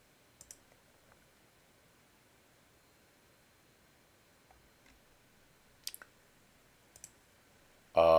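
A computer mouse gives a few sparse, crisp clicks in a quiet room, single and paired taps spaced seconds apart, ending in a sudden burst of broadband noise.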